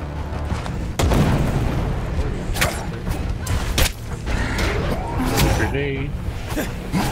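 A thrown bomb detonates in a video game battle, a sharp booming blast near the start followed by further thuds, creaks and game effects, with people talking over the action.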